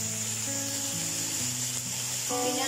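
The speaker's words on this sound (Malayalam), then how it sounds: "ഞാൻ ആ കായം എടുത്തു വെച്ചിരുന്നതും കൂടെ ഇട്ട് കൊടുക്കുവാണേ." Asafoetida sizzles softly in hot oil while tempering a Kerala sadya sambar, a faint steady hiss with sustained tonal music playing over it throughout.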